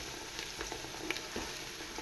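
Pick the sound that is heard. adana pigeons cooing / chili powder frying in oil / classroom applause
chili powder frying in oil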